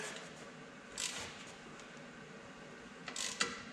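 A wrench loosening a 17mm kickstand bolt on a Hodaka Combat Wombat motorcycle during restoration, quiet ratcheting clicks in a couple of short bursts against a faint background hum.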